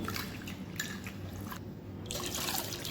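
Water drips and trickles over urad dal being soaked for idli and dosa batter, a close, quiet patter of small splashes and wet squishing at an uneven rhythm.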